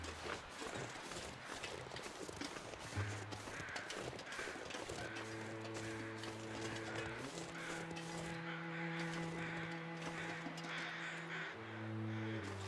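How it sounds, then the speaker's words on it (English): Birds caw in The Long Dark survival game, several harsh calls repeating over a windy backdrop with footsteps, and a sustained tonal music drone rising underneath. "Got some birds right there."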